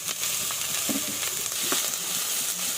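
Chopped onions sizzle in hot oil in a pan for street-style veg manchurian, a steady bright frying hiss broken by a few scraping stirs, close by with no talking.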